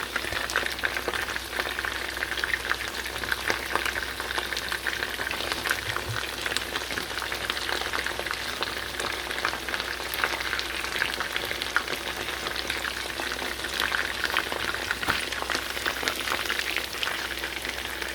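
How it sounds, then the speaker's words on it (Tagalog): Chicken teriyaki fries in a pan with a steady, continuous sizzle and crackle that holds evenly for the whole stretch, close and moderately loud, with no voices. "Itong chicken teriyaki. Fry lang muna natin siya."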